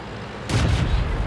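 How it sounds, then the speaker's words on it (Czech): Artillery fires in the tank game World of Tanks, one sudden heavy boom that hits midway and rolls on as a dense rumbling tail over low game background noise. "Artina, jak už potom vystřelila."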